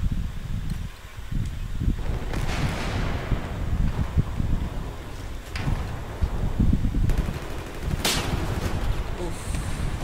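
Sniper and machine gun fire rattle across a Battlefield 4 Conquest Large battle on Operation Locker, dense cracks and bursts at mid distance mixed with rumbling ambience and scattered louder shots.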